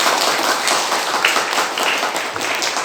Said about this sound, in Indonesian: Tepuk tangan buat Aldi